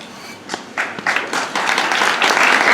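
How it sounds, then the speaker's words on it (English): Applause at a Tom Ellis fan convention panel, beginning with scattered claps and building into full, steady clapping from the crowd by the end. "Round of applause."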